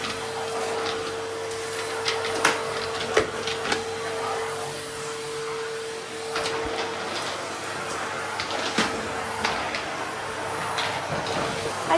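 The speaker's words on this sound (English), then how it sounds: "Just vacuum the dog bed." Vacuum cleaner running steadily over a dog bed indoors, a constant moderate whine with scattered bumps and clicks as the nozzle moves across the fabric.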